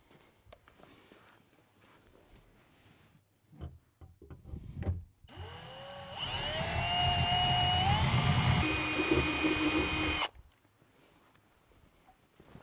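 After some handling clatter, a power drill whirs continuously for about four seconds while installing gear in a Ford Ranger, its pitch rising and shifting as it bites, then stops abruptly.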